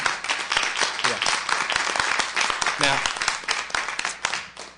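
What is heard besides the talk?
audience applause after a lecture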